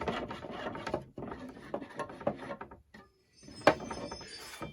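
A waxed hand saw cuts through archtop guitar wood in short rhythmic rasping strokes, close and fairly quiet, pausing briefly before a final sharp stroke.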